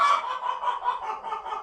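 Chickens clucking on a Tennessee homestead, a close run of short, bright clucks and murmurs in a steady uneven rhythm with no voices.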